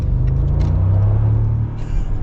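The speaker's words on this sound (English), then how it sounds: "You gotta remember, this is still a 4-liter V8 turbocharged, even though it's only got 416 horsepower" A Mercedes G-Wagon with a 4-liter turbocharged V8 accelerating, giving a loud, close, deep rumble that holds steady and then eases briefly near the end.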